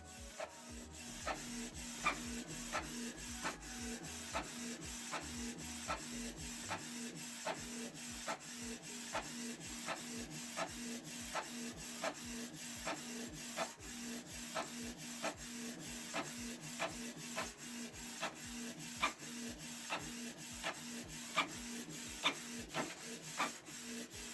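A Canon PIXMA G3410 inkjet printer runs continuously, its print head sliding back and forth in a steady rhythmic series of mechanical passes with a low motor hum underneath.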